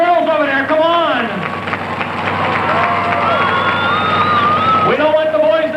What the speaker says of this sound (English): With all these girls yelling and cheering for her